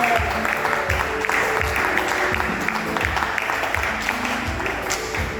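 A church congregation applauds steadily for several seconds, a dense, continuous wash of clapping filling the hall with no break.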